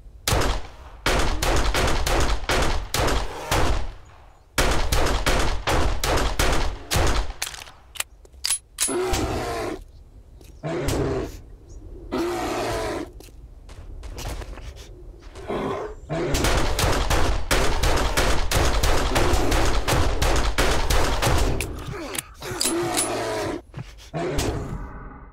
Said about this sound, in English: Take note of how many headshots this bear just shrugs off.